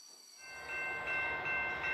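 An orange freight train hauling colourful wagons passes, starting from near silence and building into a steady rolling rumble with rising rhythmic swells, and a bright tonal ring like a horn runs over it.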